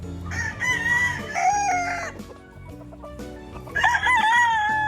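Cuban Tiger gamefowl roosters crowing in a backyard breeding yard; loud, close crows overlap early on, a quieter pause with faint clucks follows, then another strong crow rises at the end.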